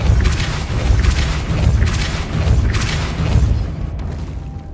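Depulso spell cast in the Hogwarts Legacy video game, a heavy booming whoosh of force with rumbling thuds swelling in several waves, loud and close, with no talk.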